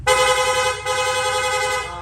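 A Honda Click motorcycle's rapid horn, which has a wiring problem, blares in a sustained bright tone, briefly cutting out once before resuming, steady and close, with no talking.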